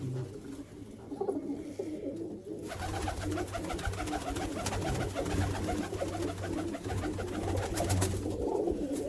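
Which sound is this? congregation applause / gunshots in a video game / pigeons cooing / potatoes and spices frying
pigeons cooing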